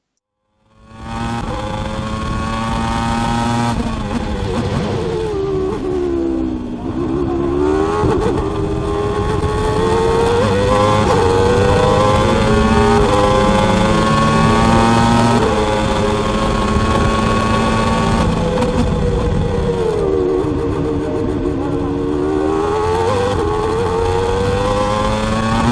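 A Tyrrell Formula 1 car with a Yamaha V10 engine of well over 700 horsepower, heard onboard from a helmet-mounted camera, screams loud and close as it rises and falls through the gears with no talk.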